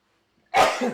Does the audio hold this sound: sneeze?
yes